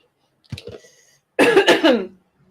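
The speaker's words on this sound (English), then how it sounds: "it's so cold it's giving me a right cough" Two short coughs, then a louder, harsher burst of close coughing and throat clearing after drinking cold iced lemonade, with silence between.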